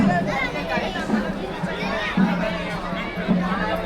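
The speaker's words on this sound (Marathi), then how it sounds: "पूर्ण खाऊ गल्लीमध्ये गर्दी आहे." Steady hubbub of a packed food lane at an agricultural fair, overlapping voices blending into continuous babble close around, with no single voice standing out for long.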